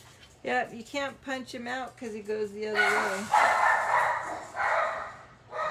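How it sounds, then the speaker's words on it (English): Dogs bark in a rapid cluster of sharp, loud barks nearby, starting over a person's talking and then continuing alone in repeated bursts. "Sorry about the dogs again."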